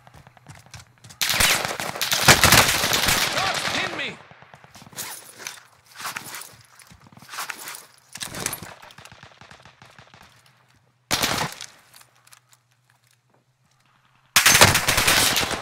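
Gunfire in Call of Duty Warzone Pacific on Caldera: loud bursts of automatic fire and single shots come in several separate volleys with quiet gaps between them, close and harsh, mixed with footsteps.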